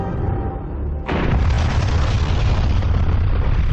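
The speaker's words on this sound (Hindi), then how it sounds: "सोवियत यूनियन ने इंसान के बनाए अब तक के सबसे बड़े बम में विस्फोट किया था।" A huge Soviet nuclear bomb detonates with a sudden deep boom that swells into a sustained roaring rumble, loud and continuous with no voices.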